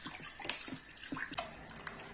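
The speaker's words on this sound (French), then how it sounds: "Et ensuite, je vais ajouter de l'eau." Water pours into a cooking pot of vegetables and spices for a homemade couscous, a soft steady splashing and trickling at close range, fairly quiet, with small clinks along the way.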